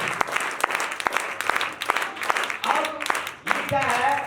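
Worship congregation clapping in a church, sharp rhythmic claps landing about every half second, steady and close, while a man preaches and sings over the beat and voices rise toward the end.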